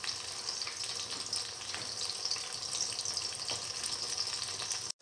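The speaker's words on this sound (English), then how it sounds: "Let it fry until golden brown." Tomato, fenugreek leaf and chickpea fritters frying in hot oil give a steady, dense crackling sizzle that stays fairly close and even throughout, then cuts off abruptly at the very end.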